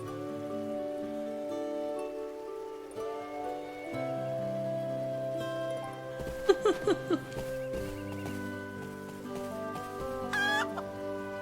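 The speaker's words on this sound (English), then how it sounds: "I want to see if I'm gonna get attacked by chickens." Chickens clucking in the video game Eternal Sonata, a few short bursts over steady game music, with a brief sharp squawk near the end.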